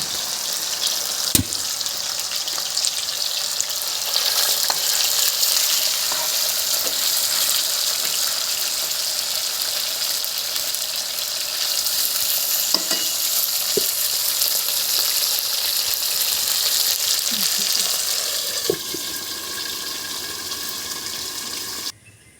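Broiler chicken meat frying in oil in a pan for a village-style potato curry, a steady loud hiss and crackle that runs throughout, with occasional scrapes and clinks of stirring.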